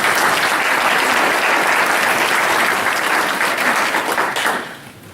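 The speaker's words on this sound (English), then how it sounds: "I think we owe her a round of applause." Loud, dense audience applause for the cook of the meal at a Jackson Energy forum dinner in Clay County, Kentucky, a continuous roar of clapping that tapers off near the end.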